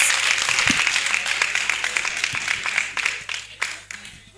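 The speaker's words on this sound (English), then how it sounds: "KMA, please, a round of applause." Audience at a New Year School conference applauding guests, a steady patter of many hands clapping that thins out toward the end, with a voice over the PA.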